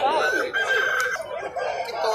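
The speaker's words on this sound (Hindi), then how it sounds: "ये है जी मुर्गे असील" Aseel roosters crow and cluck among other fowl, including golden Misri chickens, at a crowded hen and bird market in Layyah, close and fairly loud, with a drawn-out crowing call and busy background chatter from people.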